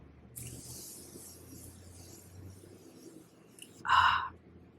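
Makeup setting spray misting: a short, forceful burst of spray hissing out near the end, after a quiet stretch of soft background noise.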